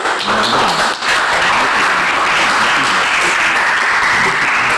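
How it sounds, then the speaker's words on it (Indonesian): Classroom applause for group 2 at a vocational high school: dense, steady clapping from a whole class, loud and close, running unbroken from start to finish with a brief dip near the first second. "Kita beri aplaus untuk kelompok 2."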